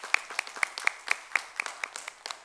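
A church congregation claps in a quick, even rhythm of about four claps a second. The sharp, faint claps are evenly spaced and continue throughout.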